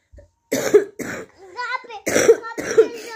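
Several harsh, dry coughs burst out in quick succession, close and loud, with a short stretch of talking between them.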